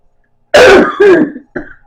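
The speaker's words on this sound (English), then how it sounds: "That's what I'm coughing up." A harsh throat-clearing cough from lingering pneumonia and COVID-19, in two close bursts followed by a shorter third, close and loud against silence.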